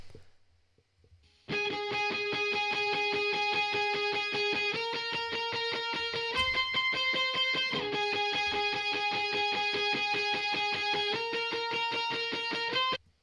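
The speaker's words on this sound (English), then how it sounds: "they sound like they're in quite a big space because of that reverb" A sustained, distorted electric guitar plays chords with a wide, spacious reverb tail, steady and loud throughout with no voices.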